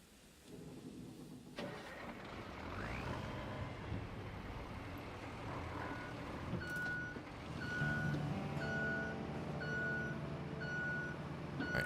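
A heavy truck in the RoadCraft video game idles and rumbles steadily while its reversing alarm beeps in an even, repeating rhythm, loud and close, with no voices.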